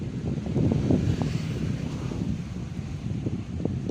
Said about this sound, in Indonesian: angin yang berhembus cukup kencang, jadi mungkin terdengar sedikit bergemuruh